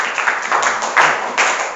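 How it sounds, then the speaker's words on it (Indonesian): Students in a classroom clap briefly for a group that has shown a wall decoration made from waste paper, producing a short, scattered burst of hand claps close by. "Tepuk tangan untuk kelompok 1."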